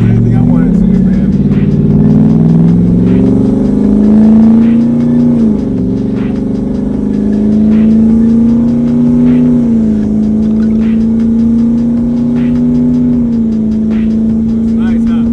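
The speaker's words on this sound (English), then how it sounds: "I like the way this truck sounds" A twin-turbo 2021 Ford F-150 running a turbo kit at 14 PSI drones steadily from inside the cab while driving, its engine note rising and falling gently with throttle, loud and continuous, with someone talking over it.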